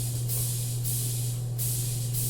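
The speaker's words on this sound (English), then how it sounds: "Next up we have the crash." A crash cymbal sample treated with delay, reverb and boosted highs gives bright, hissy washes that return several times across two seconds over a steady low electrical hum.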